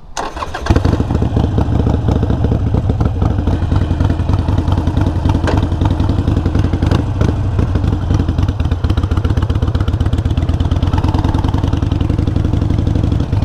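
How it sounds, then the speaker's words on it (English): A motorcycle engine fires up after a brief quiet moment and then runs at a steady, loud idle with a continuous mechanical clatter for the rest of the clip, with no talking. "So ignition on, run switch on, kickstand up."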